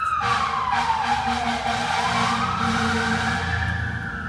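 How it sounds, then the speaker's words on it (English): A siren wails steadily, its pitch sweeping down and back up as a vehicle passes, loud and continuous over a rumble of traffic. "I'm just going to let the siren pass."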